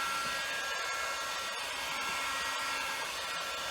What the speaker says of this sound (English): just put the heat gun on and just heat it up evenly.